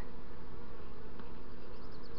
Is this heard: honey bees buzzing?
yes